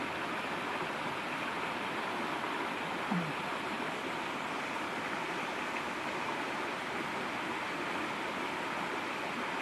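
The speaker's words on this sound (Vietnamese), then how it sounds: "cái dòng suối nó chảy ra đây nè" Small stream flowing through a village park in Lozère, a steady, even wash of running water that stays constant throughout with no voices.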